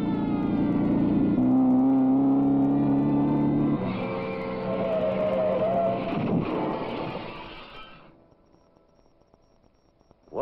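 A 1956-era car roars past recklessly, its engine droning loud and steady, then the sound shifts and fades away into the distance, with no talk over it.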